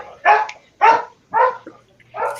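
A dog barks four times in a steady, evenly spaced series, each bark loud and close with no talk over it.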